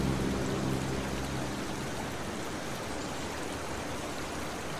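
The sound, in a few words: water ambience from a video game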